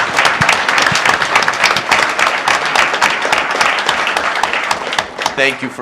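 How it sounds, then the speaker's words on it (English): Applause in a city council chamber for award winners, a dense steady patter of many hands clapping from start to finish, fairly loud and close, with some voices mixed in near the end. "let's give a warm round of applause to all of our winners this evening"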